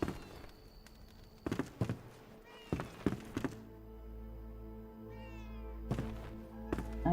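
A cat meows in the video game Enshrouded: a couple of short, soft meows, one fairly clear near the end, mixed with sharp thunks and footstep taps over a quiet, sustained musical drone.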